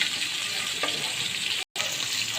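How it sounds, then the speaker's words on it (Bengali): Fish frying in soybean oil in a pan makes a steady, close sizzle with a faint clink partway through and a brief dropout near the end. "আমি সবগুলো মাছ আমি ভেজে ফেলছি।"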